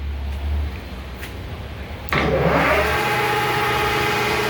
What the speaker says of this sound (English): We're going to run this spindle here for you.